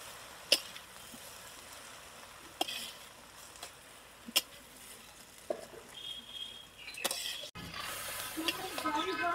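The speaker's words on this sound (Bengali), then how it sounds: "এখন পাট শাকটাকে একটু ভেজে নেবে।" Jute leaves fried with shrimp, salt and turmeric in a pan, giving a faint background sizzle with several sharp utensil clinks and scrapes scattered across the clip and some louder stirring and clatter at the end.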